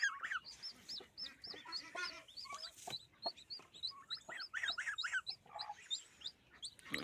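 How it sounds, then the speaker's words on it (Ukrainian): A flock of puffed-up turkeys gobbling and chirping nearby on a farm, with repeated high warbling calls and clucks overlapping in irregular bursts. "Індюки тут понапушувалися. Красавці ходять, такі важні."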